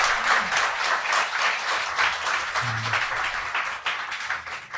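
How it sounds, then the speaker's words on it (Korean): A studio audience at a Korean talk show claps steadily for several seconds in a dense, even burst of applause, near and loud, with no talking over it. "자, 박수 한번 부탁드립니다."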